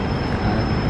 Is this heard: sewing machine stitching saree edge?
no